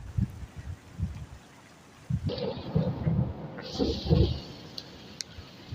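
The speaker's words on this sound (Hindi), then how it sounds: "आवाज़ें देखिए कैसे हैं बादलों की" Low thunder rumbles roll in bursts over steady rain and rushing wind, loud and close, swelling twice before easing off.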